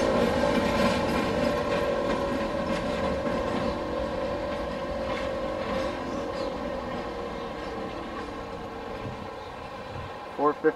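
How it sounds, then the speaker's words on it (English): A passenger excursion train on the Falls Road passes behind a C420 diesel locomotive, its loud, steady engine drone and rolling wheel noise continuing close throughout, ending in a couple of brief clanks, with a voice faintly present. "Passenger excursion on the Falls Road behind C420 number"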